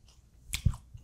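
A bite into Japanese food, salmon and tuna sashimi with squid karaage, followed by close chewing: one soft crunchy bite and a couple of moist mouth sounds, quiet and intimate, without speech.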